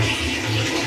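Continuous rushing and sloshing of water as soaked clothes are washed indoors, loud and close with a steady churning texture.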